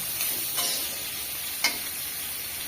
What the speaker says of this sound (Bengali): এদিকে মাছ ভাজা।